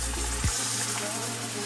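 Greens curry in a pan bubbles and sizzles quietly in a steady simmer, with a brief knock near the start.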